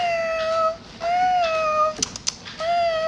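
A voice imitates a cat, giving three drawn-out, close, fairly loud meows separated by brief pauses, with a couple of short clicks between them.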